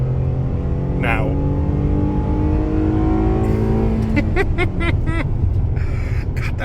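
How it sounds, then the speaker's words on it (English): Ford F-150 XL V6 pickup truck accelerating on a highway on-ramp, a steady rising engine drone heard from inside the cab while someone talks over it. "V6 pulls good, sounds great, no bad noises."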